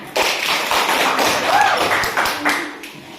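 Classroom applause from students greeting a group presentation, a dense run of close, fast claps with a few louder thuds, steady for about three seconds, with a brief voice mixed in.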